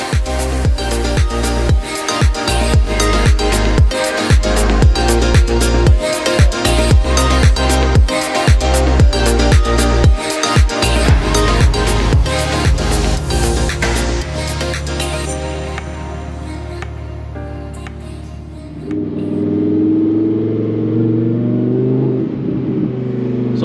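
An 850 hp Lamborghini Huracan Performante runs on an all-wheel-drive dyno, its engine loud and close, rising through repeated hard revs with sharp pulses before settling into a steadier roar and then a lower, rougher rumble.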